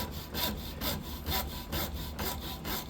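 A hacksaw cuts through the shaft of a Stihl KM 91R power head. Steady back-and-forth rasping strokes, roughly two per second, sound close and moderately loud with no talking.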